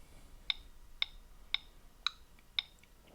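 Five sharp, evenly spaced woodblock-like clicks about half a second apart, crisp and fairly quiet against faint background hiss.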